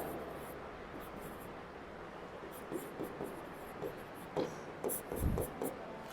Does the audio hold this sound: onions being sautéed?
no